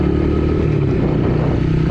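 A Yamaha TTR-110 dirt bike engine runs at a brisk rev outdoors on a cold day, a close, continuous buzzing drone with someone talking over it.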